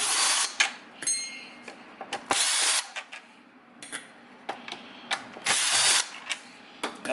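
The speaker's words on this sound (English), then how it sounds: "you can use a drill if you want." Short bursts of a power drill whirring on and off, removing screws from a Hoover WindTunnel self-propelled vacuum, several brief pulses with pauses between, close by, with faint clicks in the gaps.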